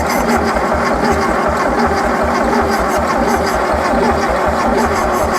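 A 1974 VW Thing's engine cranks on its old starter in a steady, rapid rhythmic churn, loud and close and unbroken throughout, with no voices.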